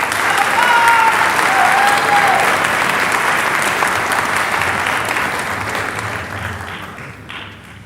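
Loud crowd applause at a high school commencement ceremony as graduates' names are read, a thick roar of many clapping hands with a brief whistle, slowly thinning and fading toward the end.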